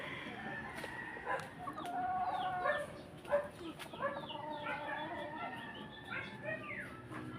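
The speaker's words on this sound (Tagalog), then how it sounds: "Amaya, matuka ka sa manok, ha?" Chickens cluck and a rooster crows amid a busy yard, with a dog barking at times and a voice speaking faintly in the background.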